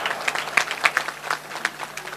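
Audience clapping at a Naari Shakti women's award ceremony held by a cultural society, a scattered, uneven burst of hand claps that stays moderately faint and thin, with no voices over it.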